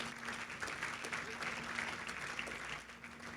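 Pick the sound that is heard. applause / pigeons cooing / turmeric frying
applause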